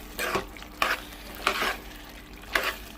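Mutton liver curry stirred in a pan after adding salt and chili, with four distinct scraping stirs spaced about a second apart over a low, constant sizzle of frying.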